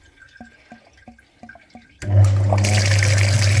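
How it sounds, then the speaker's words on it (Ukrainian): Water sprays loudly and steadily against a dirty car heater radiator during cooling-system work on a Chevrolet Suburban, starting abruptly after a few faint drips and continuing as a strong rushing hiss. "Миємо радіатор пічки."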